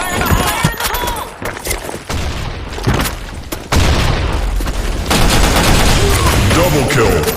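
An online shooter round on a sand storm map erupts with a grenade blast followed by rapid automatic gunfire, loud booms and dense bursts filling the mix while a game voice calls out over the chaos.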